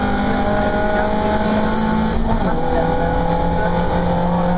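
BMW Compact Cup race cars roar steadily around the Silverstone International circuit, a loud continuous engine drone with shifting pitch as they run side by side, with faint commentary-like talk underneath.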